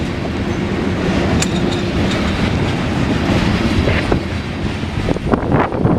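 A Norfolk Southern southbound grain train passes close by in Marion, Ohio, a loud steady roar of rolling freight cars with clickety-clack wheel beats and brief squeals, no voices.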